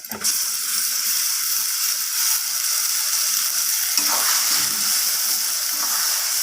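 Ground cauliflower leaves dropped into a pan of fried onion and spices, bursting into a loud, continuous sizzle that flares again partway through as the mixture is stirred.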